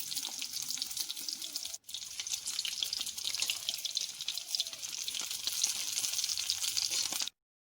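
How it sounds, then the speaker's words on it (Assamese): Fish pieces, held on sticks, fry in hot mustard oil for a fresh turmeric fish curry, giving a steady, bright sizzling hiss that runs unbroken except for one brief dip, with no talking. "এতিয়া মই ইয়াত কাঠিত দি থৈ দিয়া মাছকেইডোখৰ অলপ অলপকৈ ফ্ৰাই কৰি ল'ম"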